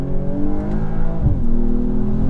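A BMW M240i xDrive engine revs loudly, its pitch rising steadily as it accelerates hard after a brief dip from a downshift, heard up close.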